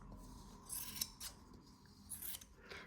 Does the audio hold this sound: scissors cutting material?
yes